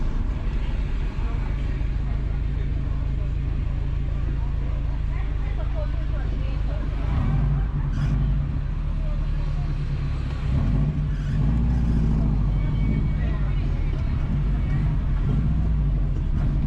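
Car cruising along Thompson Avenue in Buff Bay, Portland, Jamaica, a constant low engine and road rumble throughout while someone narrates over it.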